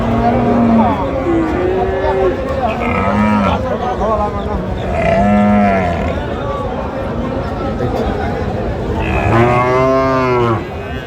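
Frieswal and crossbred bull calves and cattle moo repeatedly at a busy cattle market in Dinajpur, several loud, drawn-out calls rising over a steady murmur of crowd chatter.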